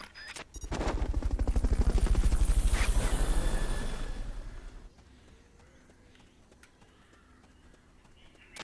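A loud, rapid chopping whir of helicopter rotors in a video game during a Fulton recovery pickup builds and holds for several seconds, then cuts off, leaving quieter ambient game sounds.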